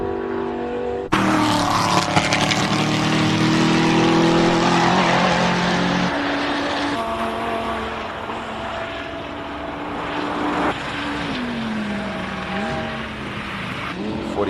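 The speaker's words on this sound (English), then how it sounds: "Ricky Giannicaro driving the R8 as opposed to usually driving his Lamborghini." An Audi R8 race car climbs a hill-climb course during qualifying at the Simola event, its engine note loud and close with rising and falling harmonic tones as it accelerates and shifts, steady for most of the run.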